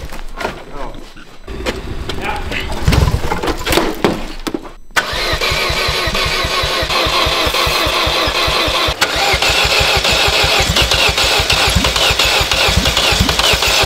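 Engine of the Sintmobiel vehicle, out in a wood, cranks, catches and starts, then settles into a loud, steady, rapid idle, heard up close. Rustling and people talking come before the start.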